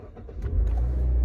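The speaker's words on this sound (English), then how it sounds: "I'm in the car." Inside a car as the engine rumbles up and driving begins, a low, swelling motor drone fills the cabin, growing louder and steady by the end.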